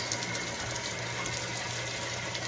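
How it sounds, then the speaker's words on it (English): Hot water rushes steadily into a Maytag washing machine during a large-load hot wash cycle, a constant close hiss and gush with a low mechanical hum beneath, no voices. "it may be the first time that hot water enters their washing machine"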